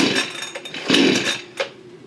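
Brand-new PRORUN PCS560C chainsaw catching after a pull and sputtering briefly into a rough, loud two-stroke engine buzz up close, then dropping off, with no talk.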